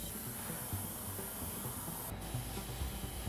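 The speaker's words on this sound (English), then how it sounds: "I sprayed a generous coat of Vallejo matte varnish on the whole thing" Soft continuous hiss of a spray can applying Vallejo matte varnish over a scratch-built model spaceship drydock, faint and steady with a brief gap partway through.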